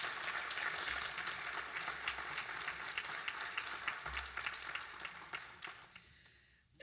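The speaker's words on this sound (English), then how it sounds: "Let's give all our honorees this year another round of applause." Sustained applause from a ceremony audience honoring state public servants, a broad crowd of clapping that gradually thins and fades toward the end.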